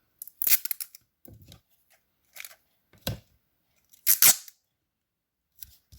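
Several short, sharp rips of adhesive tape being pulled and torn, in separate bursts with quiet gaps between.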